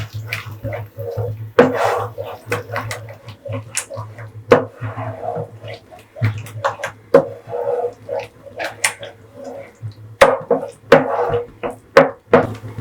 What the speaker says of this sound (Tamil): இதையும் நல்லா மிக்ஸ் பண்ணிக்கிங்க.